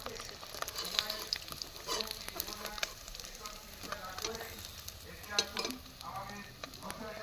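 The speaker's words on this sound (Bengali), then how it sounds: "মাছটা উল্টে পাল্টে ভেজে নিয়েছি, দেখো মাছগুলো লাল লাল হয়ে গেছে।" Bhetki fish pieces frying in hot oil in a pan, a steady close crackling sizzle with scattered pops and the scrape of turning the fish throughout.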